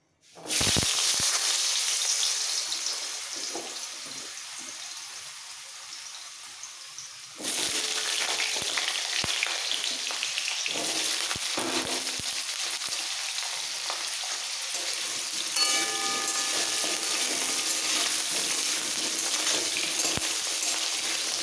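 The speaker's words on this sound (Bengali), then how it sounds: "তেল গরম হয়ে গেছে, এবার দিয়ে দিচ্ছি আলু" Potatoes dropped into hot oil set off a loud, continuous crackling sizzle that jumps up sharply at the start and swells again midway as the frying intensifies, with faint stirring clinks.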